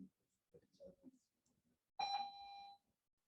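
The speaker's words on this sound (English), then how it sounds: "Is that the end of class bell?" A school end-of-class bell rings once, a clear sustained electronic tone lasting under a second, after a few soft spoken words in a quiet classroom.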